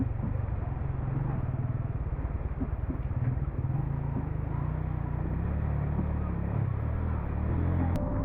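A motorbike riding a dangerous landslide-prone mountain road between Babusar and Astore in Pakistan, its engine a continuous low rumble with steady drone and wind buffeting throughout, no pauses or revving peaks.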